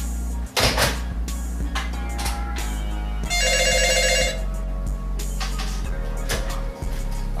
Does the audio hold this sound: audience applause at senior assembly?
no